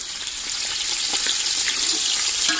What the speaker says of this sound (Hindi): घी हमारा गर्म हो गया और अभी इसमें डालने प्याज।